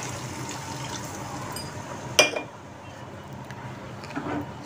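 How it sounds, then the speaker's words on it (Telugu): Water goes from a glass into a cooking pan of curry with red chilli powder, a short splash and clink near the middle, fairly close, over quiet kitchen background. "సో గ్లాస్ తోటి వాటర్ యాడ్ చేద్దాము."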